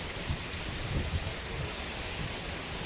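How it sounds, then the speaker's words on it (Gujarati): Heavy monsoon rain pours steadily outside a godown, driven by strong gusting wind, with a continuous dense roar and low rumbles throughout and no voices. "ભાઈ મસ્ત મજાનો વરસાદ ચાલુ થઈ ગયો જોરદાર અને હવા પવન બી જોરદાર છે."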